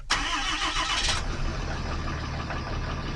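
Diesel truck engine cranking in cold weather after the glow heat grid has warmed, a loud starter whir for about a second before catching into a rough, steady idle, close and alone.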